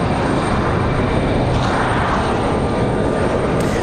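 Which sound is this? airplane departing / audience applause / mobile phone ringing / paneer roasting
airplane departing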